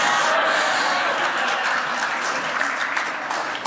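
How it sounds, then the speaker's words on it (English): A convention audience gives a round of applause, dense loud clapping that holds steady for several seconds. "Round of applause for Baba Yaga."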